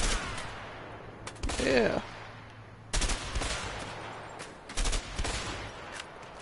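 Gunfire rings out in the co-op video game A Way Out, in several short loud bursts of shots separated by pauses, with players' voices heard briefly.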